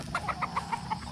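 A gamefowl rooster gives a quick run of about six soft, rhythmic clucks, close by over a low background hum.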